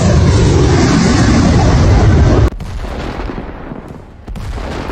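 Rocket artillery from a HIMARS launcher firing on a Russian surface-to-air missile system: a dense, loud roaring blast lasting about two and a half seconds, cutting off abruptly into a lower rumbling hiss with brief further bursts.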